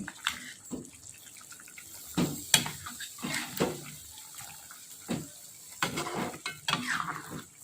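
Chicken tongseng being stirred in a pan, with soft intermittent scraping and clinking of a spoon against the metal alongside a faint simmering sizzle.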